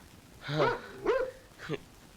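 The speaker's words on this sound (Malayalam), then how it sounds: "വല്ലാതെ കുരയ്ക്കുന്നുണ്ടല്ലോ സാർ സാർ വളർത്തുന്നതാണോ അതോ തെരുവ് പട്ടിയാണോ സാർ" A dog gives three sharp barks in quick succession, fairly close and moderately loud, with the last one shorter and yelping, over quiet background noise.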